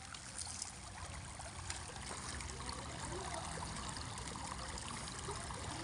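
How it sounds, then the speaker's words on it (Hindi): Irrigation water runs through a channel and is diverted into a field, making a quiet, steady trickling and gurgling flow heard alone at a distance. "पानी पलटा रखा है अपने खेत की तरफ।"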